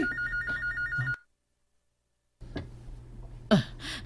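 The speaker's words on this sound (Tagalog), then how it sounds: "mihurong na sa pagbagting ang telepono" A telephone rings with a fast, trilling electronic bell in rapid bursts, close and clear, then cuts to silence before faint room noise, knocks and a short voice sound follow.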